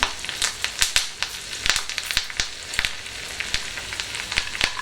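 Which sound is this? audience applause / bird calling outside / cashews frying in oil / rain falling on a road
cashews frying in oil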